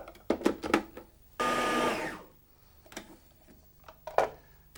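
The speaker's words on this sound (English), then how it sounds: "Whack this in the blender." Kitchen blender grinding bread into fine breadcrumbs, a loud steady whir lasting about a second after a few short knocks and clatters, followed by quieter handling sounds.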